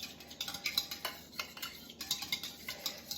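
A metal fork clinks and scrapes rapidly against a bowl while stirring yeast into water, a quick, uneven run of close, light taps and scrapes with no talking.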